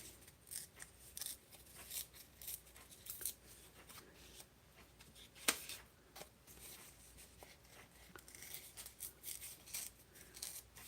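Paper card stock being torn by hand, producing a run of close, rough ripping and rustling bursts in a quiet room, with one sharper tear standing out midway.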